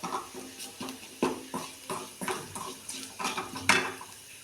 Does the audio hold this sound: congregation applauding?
no